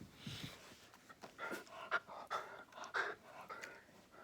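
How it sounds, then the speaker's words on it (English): Several dogs pant indoors in quick, breathy bursts with an occasional soft whimper, fairly faint and close by, rising and falling over a few seconds. "my dogs were gonna start barking"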